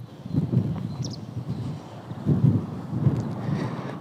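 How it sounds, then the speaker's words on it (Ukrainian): Gusty spring wind at the Kakhovka Reservoir buffets the microphone in low rumbling bursts, swelling and fading unevenly, with no speech. "можливо, він буде не найкращий, тому що сьогодні досить сильний вітер дує"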